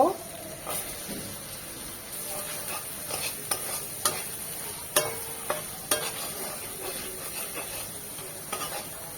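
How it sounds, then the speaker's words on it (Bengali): Dried fish (shutki) and chaba stir-fry in a spiced masala with a continuous sizzle. Repeated scraping and stirring knocks sound against the pan, and a faint voice can be heard now and then. "শুটকিটা মশলার সাথে দু মিনিট কষিয়ে নেব"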